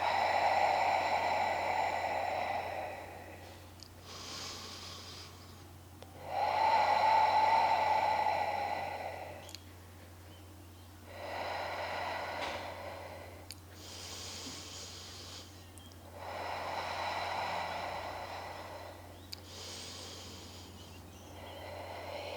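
Slow, deliberate breaths during prenatal yoga, five long hissing cycles of inhale and exhale, close and steady, each lasting a few seconds, with no talk.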